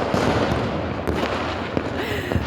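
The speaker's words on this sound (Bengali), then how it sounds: "পুরো শহরে বোম ব্লাস্ট হচ্ছে" Fireworks bursting across Dhaka city on New Year's night, a dense rolling crackle with several sharper distant booms scattered through it.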